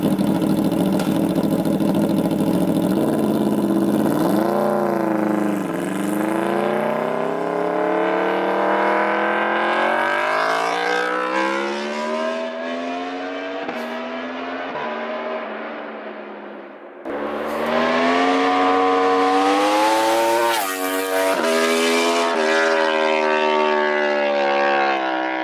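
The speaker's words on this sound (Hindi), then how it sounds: "और अब सुनते हैं इसका एग्जॉस्ट नोट।" A V4 motorcycle engine revs hard, its exhaust pitch climbing and falling in long sweeping pulls, cutting out briefly before roaring back up to a high whine.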